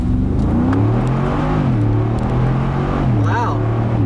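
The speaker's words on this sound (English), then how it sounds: "And I'm going to do another acceleration." A 2019 Mercedes-Benz G550 accelerating in manual mode of its 9-speed automatic, the engine note climbing steadily and dropping at gear changes, heard from inside the cabin with steady road and wind rumble.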